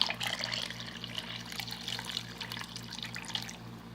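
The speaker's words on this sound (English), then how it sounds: "I'm going to add just a little tiny bit of water" Water is poured into a cooking pot of arroz con pollo, streaming steadily for a few seconds with a soft splashing trickle, steady and close, over a low background hum.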